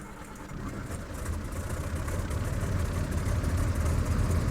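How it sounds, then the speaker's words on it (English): A simulated aircraft engine starts up in Flight Simulator 2000, a low steady droning hum that grows gradually louder over several seconds with no voices. "And the engine's a lot louder."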